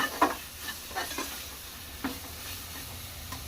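Chili powder frying in a pan gives a soft, steady sizzle with a few light scrapes and taps of a spoon against the pan, close and fairly quiet, with no talking.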